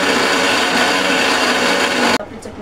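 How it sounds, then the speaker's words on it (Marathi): A kitchen mixer grinder blitzes garlic, peanuts, green chillies and curry leaves into chutney, a loud, steady high whirring drone that cuts off abruptly near the end, leaving quiet rustling. "आता हे सगळं मिक्सरला बारीक करते आणि याची चटणी बनवते"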